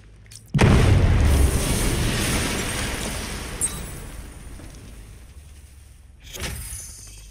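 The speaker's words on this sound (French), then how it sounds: "Je dois m'éloigner davantage avant de déclencher l'explosion." A heavy explosion in the video game Batman Arkham Knight bursts suddenly into a deep, loud boom, then rumbles and slowly decays over several seconds before a second, softer blast near the end.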